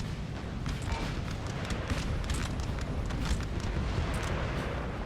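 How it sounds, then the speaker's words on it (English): Artillery bombardment aimed at a house during a siege battle in Napoleon Total War: a dense, continuous rumble of cannon fire with scattered sharper reports, steady and moderately loud throughout. "Looks like they're targeting their artillery on the house."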